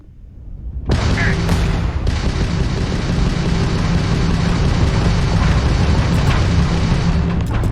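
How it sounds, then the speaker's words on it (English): Spaceship weapons opening fire in the space game Starfield, a sudden loud roaring onset that settles into a sustained, dense barrage lasting several seconds. "We're opening fire."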